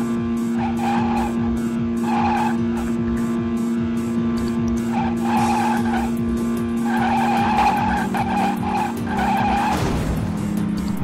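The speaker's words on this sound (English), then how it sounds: "Who knew that driving stock cars at an airport area would come to life in the video game world?" Stock car tires skid and squeal around an airport course in a racing video game, with a steady engine drone underneath and repeated bursts of screeching throughout, loudest near the end.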